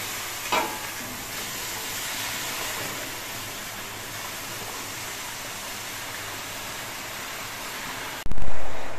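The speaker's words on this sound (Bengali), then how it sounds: "এবার এই কড়াইয়ের মধ্যে কচু শাকগুলো দিয়ে দিচ্ছি।" Taro leaves dropped into a large wok on a gas stove give a steady, loud hiss and rustle of sizzling, with a sharp clatter near the start and a louder burst at the very end.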